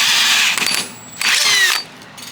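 A power drill whines in two bursts through the body metal of a Toyota AE86 Trueno, the motor pitch rising and falling, with a short pause between them.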